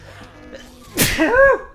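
A single sharp, loud sneeze bursts out after a quiet stretch of faint background sound, trailing off with a brief voiced tail, during a Banjo-Tooie playthrough.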